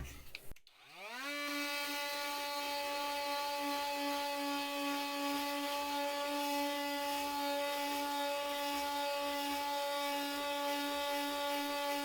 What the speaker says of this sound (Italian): vediamo se riusciamo a levigare anche questa parte